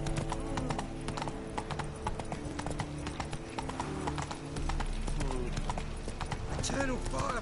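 Roach, the horse in The Witcher 3 video game, galloping with rapid rhythmic hoofbeats over in-game music, while a person speaks over the action.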